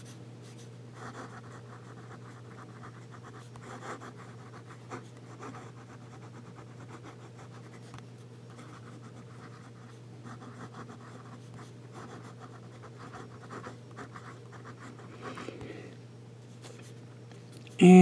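Pilot G78 fountain pen with a medium nib scratching across paper in a steady run of short strokes, soft and close, continuing without talk.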